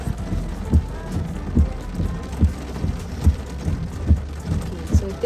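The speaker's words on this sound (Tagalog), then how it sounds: "Ang lakas ng ulan." Heavy rain pours down steadily in a loud, dense hiss with rhythmic thumping drips, close to the microphone and uninterrupted.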